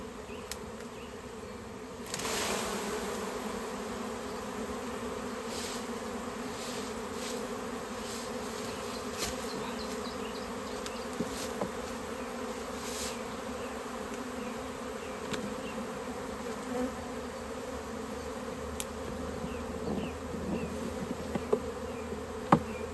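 A wild honeybee swarm being collected by beekeepers fills the air with a constant, dense buzz of many bees, steady and close throughout, with occasional brief handling knocks.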